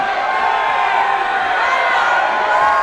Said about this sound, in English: who's going to cheer over here?